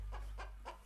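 Chickens cluck in three quick, soft bursts about a third of a second apart over a low steady hum, faint and close in a barnyard garden setting.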